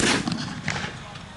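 German mortar shells explode nearby during a battle reenactment, a short, rumbling burst of heavy blasts, with a second thud following closely amid noisy background clatter.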